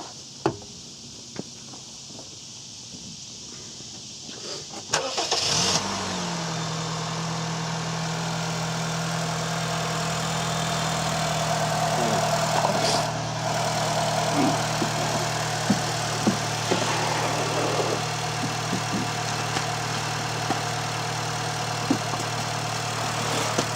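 A 2012 Honda Fit's 1.4L engine cranks and catches after a few quiet clicks, then settles into a steady, even idle that runs on nearby, with light scattered handling noises and no talking.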